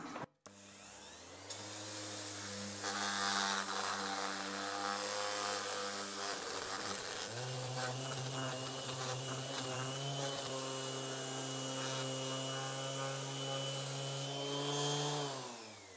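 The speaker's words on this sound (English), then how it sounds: "Random orbit sander with an 80 grit Abranet." Random orbit sander fitted with 80 grit Abranet mesh, grinding on a metal cross slide guard for a Weiler Primus lathe, a loud continuous whirring drone with shifting pitch held for the whole stretch, no voices.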